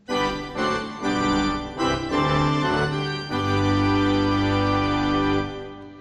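A slightly out-of-tune pipe organ sound from a Bugari Evo, voiced as an older church organ, plays a few sustained chords, full and reedy with a wavering, beating quality, ending on a long held chord.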